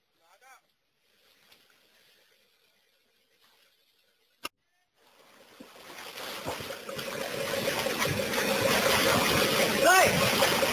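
Rushing floodwater during a rescue evacuation in Kampung Pulo, Jakarta, starting quiet and swelling into a steady loud wash of churning water and wind noise, with a brief shout near the end.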